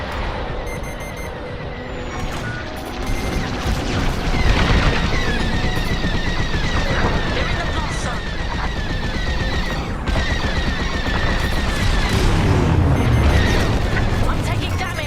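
Star Wars Squadrons space battle with ship cores being detonated: dense, continuous rumbling blasts and rapid fire layered over game music and radio chatter, loud throughout with heavier booms building near the end.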